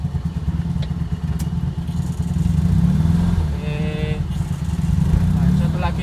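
Honda N360 kei car engine droning steadily while driving, heard from inside the cabin with some clatter, while a person talks over it.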